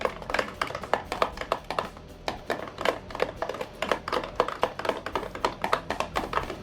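A spoon stirs a pink dipping sauce with seasoning in a bowl, making quick, irregular clicking taps against the bowl in a steady, busy rhythm, close and clear with no talking.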